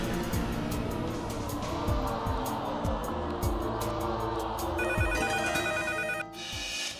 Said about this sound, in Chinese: 莫爷好，我是1号女嘉宾，我想转接一下我的舅妈